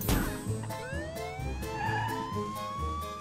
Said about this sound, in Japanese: パトカーを呼ぼう。